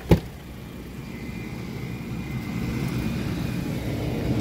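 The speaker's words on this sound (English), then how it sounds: "a fan makes a bad sound." Cooling fan in a Tesla Model 3 being rebuilt, running with a faulty, bad-sounding whir, a steady rumbling drone that slowly grows louder after a brief knock at the start.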